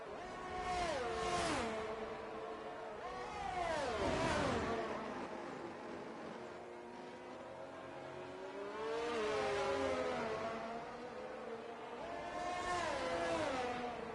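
A race car in a racing video game on the Japan circuit, following an Aston Martin down to 130R. The engine whines up through the revs in repeated sweeps with gear changes, and the level swells and fades.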